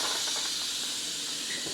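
Steam hisses steadily from a multicooker cooking steel cut oats, a continuous close airy rush with no clear breaks.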